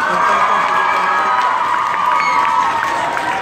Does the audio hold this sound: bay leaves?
no